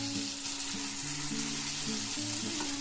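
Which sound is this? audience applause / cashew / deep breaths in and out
cashew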